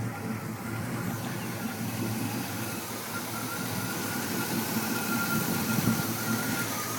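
A 1980 Trans Am V8 idles through a Flowmaster exhaust on original 2 1/4 inch pipes with a slight passenger-side exhaust leak, giving a steady low rumble at moderate volume with no voices.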